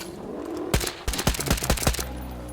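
Video game gunfire rattles out in a rapid burst of sharp, loud shots following each other at an uneven pace for over a second, close and without speech.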